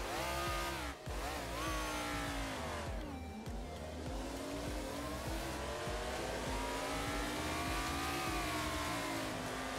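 NASCAR race car engines roar and rev continuously in a Wreckfest video game race at Talladega, a dense, loud pack of engines with shifting pitch, brief dips during gear changes and occasional tire squeal.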